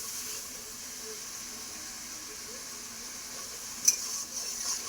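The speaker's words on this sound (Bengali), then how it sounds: "হলুদ আর লবণ দিয়ে চিংড়ি মাছটা একটু ভাজা ভাজা করে নেব।" Prawns frying in a pan with turmeric and salt give a soft, steady sizzle and hiss throughout, with one brief sharp clatter near the end.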